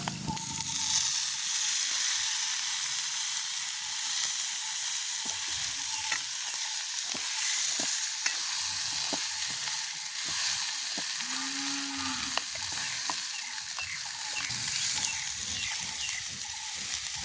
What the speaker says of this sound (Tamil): இனி நாங்கள் வெட்டி வச்சிருக்கிற உருளைக்கிழங்க போடுவோம்